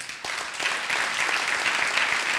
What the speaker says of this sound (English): one big round of applause for